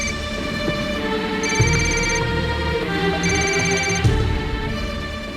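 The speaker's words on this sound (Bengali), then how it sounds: "কখন থেকে তোমার ফোনটা বাজছে?" A mobile phone rings in a home with repeating electronic tone bursts, loud and close, over a bed of steady background music.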